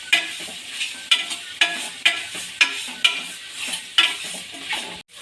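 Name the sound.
frying goat tripe (boti) with salt and turmeric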